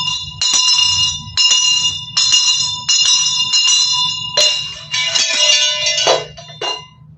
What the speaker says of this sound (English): See this bell.